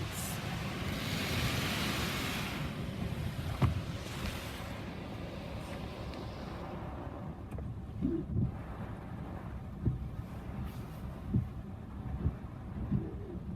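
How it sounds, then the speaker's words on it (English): Spot-free rinse spraying water over a car inside an Exxon soft-cloth car wash with a Ryko Softgloss XS 2 system, a steady rushing hiss heard from within the vehicle, with occasional knocks and drips. "This must be our spot-free rinse"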